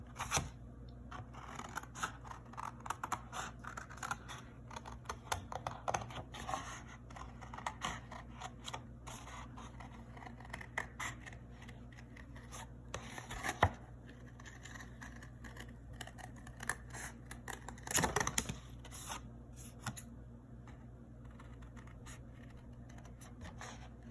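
Scissors cutting out a paper bird pattern traced for a watercolor craft, a series of quiet, close snips and crisp paper rustles coming in uneven clusters, faint and alone without talk.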